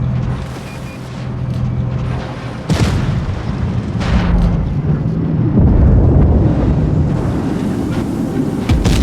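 Shells strike tank armor in World of Tanks Blitz, with the WZ-121 Tier 10 tank in battle: a sharp boom and crash near the three-second mark, then further dull impacts over a constant low engine rumble and wind-like battle noise.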